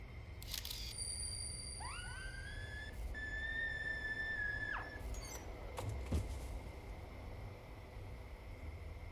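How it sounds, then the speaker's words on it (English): A spirit shrieks in the horror game Death Mark, a series of thin whistling squeals that slide up and hold before cutting off, followed by a sharp click and a faint, quiet hiss of background. "The spirit shrieks, and while distracted,"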